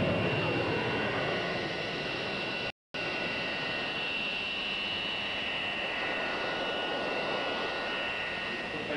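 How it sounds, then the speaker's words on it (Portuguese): Mirage fighter jets fly past breaking the sound barrier, with a sustained, loud, whooshing engine roar and a faint whine on top. The roar is steady apart from one brief cut. "Os caças Mirage ultrapassam a barreira do som"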